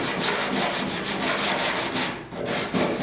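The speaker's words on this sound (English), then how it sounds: "So we'll sand that down." Metal on a restored old truck's cab corner is power-sanded in a close, loud, continuous rasping whir with rhythmic pulses and a brief dip near the end.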